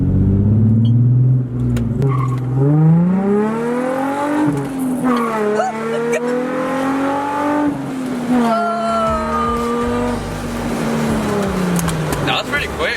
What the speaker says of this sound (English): I've never actually gunned this car.